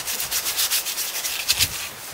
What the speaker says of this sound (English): Smoothing. Yeah, smoothing all of this here.